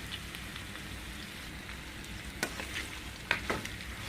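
Tomatoes for chicken pakam sauté in a pan with a soft, steady sizzle and a few light clicks of a utensil stirring, quiet and close, without talking.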